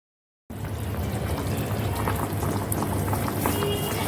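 Green mango bubbling in a pot of water while cooking down for chutney, a steady rolling boil with dense popping and gurgling that starts abruptly after a short silence and continues evenly.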